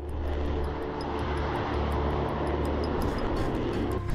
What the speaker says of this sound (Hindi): ताइवान के लड़ाकू विमान आसमान में मोर्चा संभाल लिए।